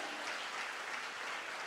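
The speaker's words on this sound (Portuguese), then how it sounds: "Ai, aplauda o Senhor." Church congregation applause during a sermon: a steady, even wash of many hands clapping, faint and distant, with no break in the sound.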